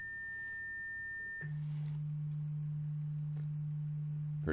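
A pure electronic sine test tone holds steady at a high pitch, then switches abruptly to a low, clean hum that sustains to the end, with a few faint clicks of workshop noise.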